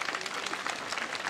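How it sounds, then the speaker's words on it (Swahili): Audience clapping at a Kenyan political gathering, a brief burst of dense, distant applause with no clear voices over it. "Tuwapigie makofi tafadhali."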